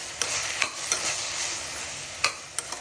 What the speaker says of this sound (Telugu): ఇప్పుడు కలుపుకుందాం అండి.